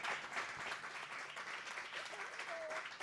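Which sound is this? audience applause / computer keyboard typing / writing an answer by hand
audience applause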